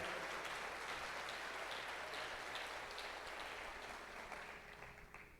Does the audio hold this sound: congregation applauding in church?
yes